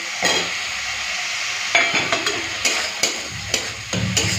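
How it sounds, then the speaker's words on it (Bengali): Chopped tomatoes go into spices frying in a pan for a kohlrabi curry, giving a close, steady sizzle broken by repeated sharp scraping strokes of stirring, with no voices. "মশলা ভালো করে কষে নিয়েছি, এই সময় দিয়ে দিচ্ছি কেটে রাখা টমেটো"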